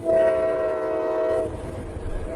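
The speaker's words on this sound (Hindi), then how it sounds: "तभी पास के रेलवे ट्रैक से एक भारी मालगाड़ी गुजरी।" A heavy freight train passes on a nearby railway track, its horn blaring loud and steady for over a second before dropping off, leaving a rumbling rail roar underneath.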